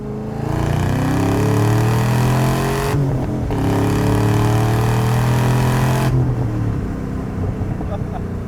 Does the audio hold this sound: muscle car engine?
yes